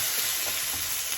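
Stir fry with rice sizzling in butter with soy and oyster sauce, a brief, steady hiss of frying, close and even.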